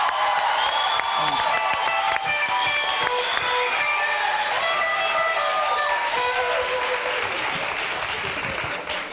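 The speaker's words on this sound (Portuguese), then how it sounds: "Aplausos pra China, pô" A television studio audience breaks into loud, sustained applause with cheering and whoops, a dense crowd roar that stays strong throughout before easing slightly.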